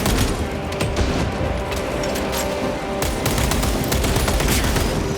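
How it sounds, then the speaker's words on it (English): Dense, continuous volley of gunfire and explosive bursts from a crack grenade in the Warhammer 40,000: Space Marine 2 video game, loud and relentless with overlapping sharp cracks throughout. "Using crack grenade."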